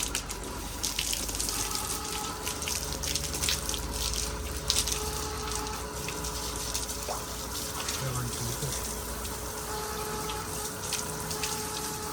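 Water splashing and running steadily as a washroom floor is washed down with water and a broom, a continuous close wash of flowing water with faint scrubbing and no talk.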